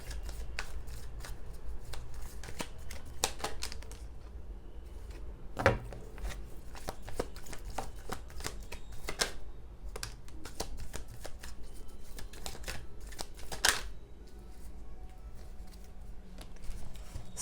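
Tarot cards being shuffled by hand, a steady run of soft riffling and flicking with a few sharper card snaps, close and alone without talk.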